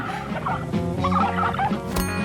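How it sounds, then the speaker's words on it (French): Turkey gobbling in a rapid, loud, close burst of warbling calls that lasts for about two seconds, with no talk over it. "Il a giflé un dindon"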